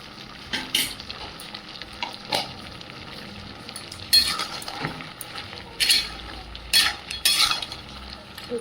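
A crab curry cooks in a pan while a spoon stirs it in bursts, with loud, close scrapes and metallic clinks against the pan over a quiet simmer.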